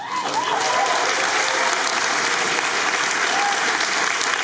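A large convention audience applauds steadily, a dense wash of clapping that holds at full strength throughout.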